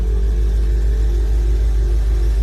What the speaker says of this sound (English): Idling a little high because the choke is still on because she was cold.